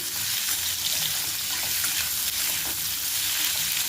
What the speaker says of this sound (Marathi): हा बटाटा असा तेलावरती व्यवस्थित आपण फ्राय करून घेऊया एक मिनटासाठी